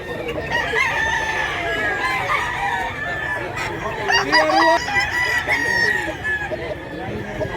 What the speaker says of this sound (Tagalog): Daghang kay manok mga idol.